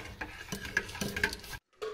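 A spoon stirring protein powder into a drink, close ticking and clinking taps against the container in an uneven rhythm, quiet, with a short silent gap near the end and no talking.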